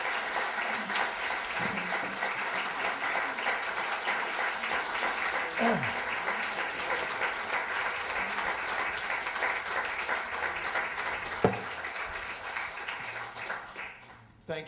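Prolonged applause from a lecture audience after a talk in a Du Bois lecture series, a steady wash of many hands clapping at moderate level, with a few faint knocks and shifts and the clapping thinning near the end.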